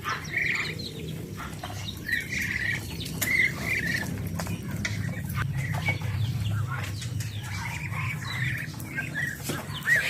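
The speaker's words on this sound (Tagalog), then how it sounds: "Mga native na manok" Native chickens cluck softly in a backyard flock among other fowl, with short bursts of clucking scattered over a steady patter of rain and a low background rumble.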